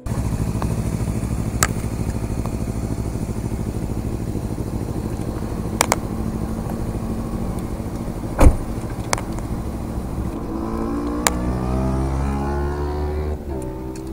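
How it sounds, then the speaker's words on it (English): A Kawasaki Ninja 300 with aftermarket slip-on exhaust idles and revs nearby, a steady low engine drone with a few sharp clicks and a rising rev near the end, no talking. "The one thing that I absolutely cannot fault with that Ninja 300 is that exhaust sound."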